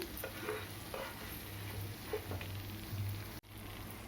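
Ingredients for crispy semolina laddu frying gently in ghee until golden, a faint, steady hiss of sizzling with light stirring and a low background hum, with no voices.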